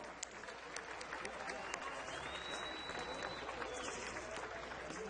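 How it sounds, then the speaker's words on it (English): A crowd at the opening ceremony of the World Indigenous Nations Games applauds families, volunteers and organizers, a distant, sustained patter of clapping in a large space. "give them all a round of applause of all the families, volunteers, and organizers that made this possible"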